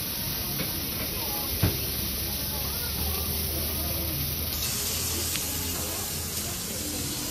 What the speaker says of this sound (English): And this is them cooking on the grill right now.